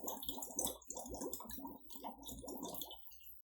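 Air blown through a rigid straw into water, a close, quiet run of bubbling gurgles in rhythmic bursts that stops abruptly at the end, with no talk.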